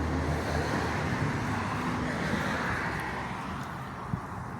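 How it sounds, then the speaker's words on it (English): A 1971 Nevada Silver 4-speed convertible with a numbers-matching, all-stock engine and stock exhaust idles steadily, a low broadband rumble holding even throughout, fairly close and unaccompanied by talk. "Stock exhaust."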